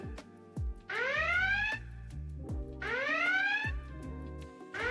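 A two-part electronic alert chime plays twice, each burst a bright rising tone sweep over a steady synthetic backing, sounding as a stream chat notification for a fairy in Last Epoch.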